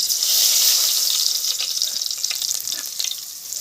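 Curry leaves spit and crackle in hot oil in a pan, a loud dense sizzle that swells at first and then settles into a continuous crackling hiss.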